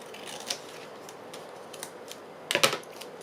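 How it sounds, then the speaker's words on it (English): Paper being trimmed with scissors while making pockets for a boho journal: a few faint snips spread out, then a louder cluster of quick cuts near the end, close by with no talk. "I'm going to just trim off the excess"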